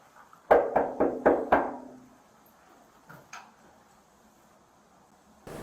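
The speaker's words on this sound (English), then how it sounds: "he knocks on the door and does not announce himself as a police officer" A police officer knocks on a front door with five sharp, evenly spaced raps, loud and close, followed by a quieter thump and a later bump.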